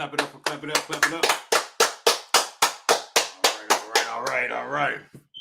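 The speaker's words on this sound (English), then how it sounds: "Clap it up, clap it up, clap it up." Sharp rhythmic hand claps from a brotherhood class gathering, around twenty crisp strokes in an even beat close to the mic, with voices chanting or speaking over them before the clapping fades into talk.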